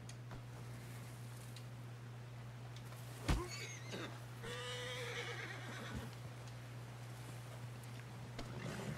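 A horse in the video game Red Dead Redemption 2 whinnies once sharply, followed by softer snorts and breathy sounds over a steady low hum.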